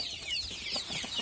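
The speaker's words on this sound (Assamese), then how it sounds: "মুৰ্গী অলপমান আছে এয়া চাওক" Local chickens on a small village broiler farm give soft, scattered clucks at moderate distance, with faint chirpy calls over a steady low rustling background.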